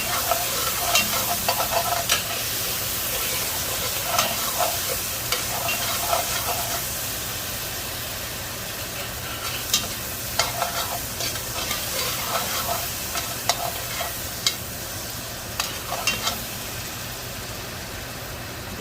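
Garlic cooks in a pan on low heat for braised short ribs, a steady close sizzle broken by repeated scraping and stirring clatters from a utensil, with no speech.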